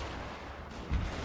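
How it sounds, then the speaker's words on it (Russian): Cannon fire in a Shogun 2 Fall of the Samurai battle, shelling British marines: a single deep boom arrives near the end of a short stretch of steady rumbling battle noise. "тут пушка, кстати, фигачит по британской морской пехоте"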